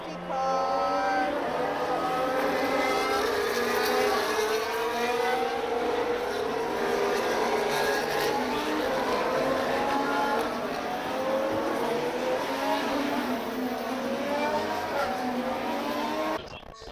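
Race cars scream past on the circuit at the Austin Grand Prix, a sustained loud engine roar with rising and falling pitch as the field streams by, fading abruptly at the end.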